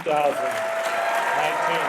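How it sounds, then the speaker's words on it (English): Audience applause for 2019 physician assistant studies graduates at a commencement ceremony, steady and full throughout, with a voice or tone running over it. "Let's have a round of applause for our 2019"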